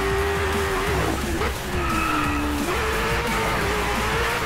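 A racing motorbike in the video game Driveclub Bikes leans through a corner with a steady high engine whine and a continuous tire squeal that rises and dips, loud and without talk.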